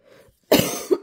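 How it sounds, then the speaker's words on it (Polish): A woman coughs once, a sharp, loud burst rising from quiet, with a second smaller cough catching at the end. "Jak o tym zaczęłam mówić, no to zaczęłam się kaszeć."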